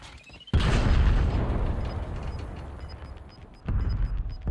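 A heavy boom bursts out suddenly in Call of Duty: Warzone, followed by a long rumbling decay and a second blast near the end.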